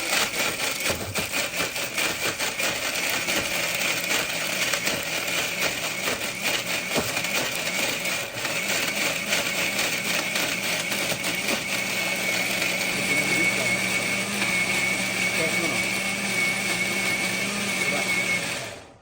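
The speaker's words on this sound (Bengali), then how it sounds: "ব্লেন্ডারে দেওয়ার পরে এটারে মিক্স করা হইব একবারে ফিনিশিং" A loud electric blender whirs steadily for nearly twenty seconds while mixing juice, a constant dense motor drone close to the microphone that cuts off abruptly at the end, with faint talk underneath.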